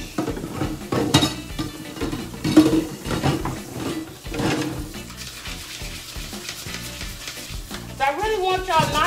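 Butter sizzling and frying in a pan in a home kitchen, a steady crackle running underneath clattering dishes, utensils and stirring, with a voice talking near the end.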